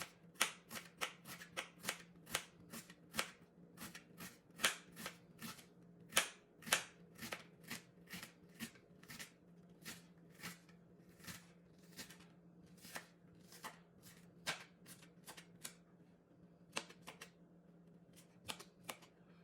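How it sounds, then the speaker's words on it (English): Sharp, crisp knife chops strike a cutting board while chopping onions small, in a quick, uneven series, close by with a faint hum underneath. "now I'm going to turn them and then start chopping them small,"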